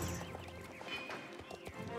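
Horse hooves clip-clop in a horse riding video game, a quick steady gallop rhythm with a whinny, heard up close.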